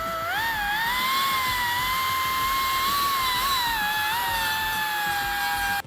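A power tool, likely a rotary grinder or die grinder, deburrs the freshly cut edges of a 2015-2022 Ford Mustang exhaust pipe during a Roush cut-and-clamp resonator delete X-pipe install, giving a steady, close, high-pitched whine that shifts pitch slightly before stopping abruptly.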